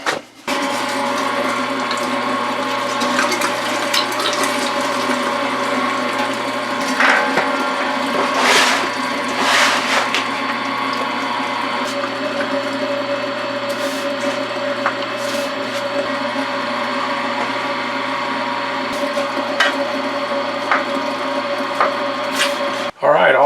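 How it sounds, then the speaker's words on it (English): A meat grinder runs steadily, grinding bear meat for breakfast sausage through coarse and fine plates, with a constant mechanical whir and occasional clanks and surges throughout, running alone. "we're going to grind it twice. Once through a coarse plate and once through a fine plate."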